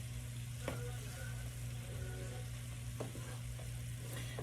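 Stuff pepper frying and being stirred in a pot, a steady close sizzle with a low hum underneath and a few faint scrapes of the spoon.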